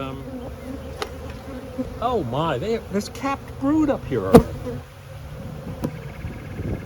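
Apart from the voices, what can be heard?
honeybees buzzing in an open hive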